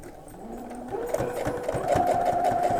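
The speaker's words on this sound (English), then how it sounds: "I can very carefully get this stitched." A sewing machine stitches a rice bag, starting with a slow whirring hum and building into a steady, rapid mechanical chatter of the needle, close and fairly loud.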